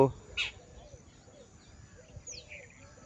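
Birds chirp beneath a huge banyan tree more than 200 years old, with two brief, faint calls, one early and one later, over a soft outdoor background.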